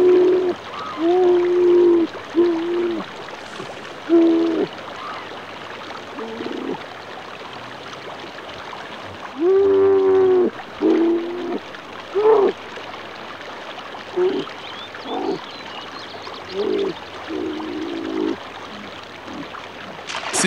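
Kodiak bear cubs cry and bawl in repeated short, wavering calls while crossing a stream, their voices rising over a steady rush of flowing water.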